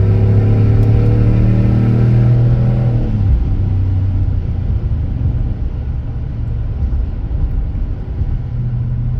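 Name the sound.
Ram pickup truck engine revving, exhaust note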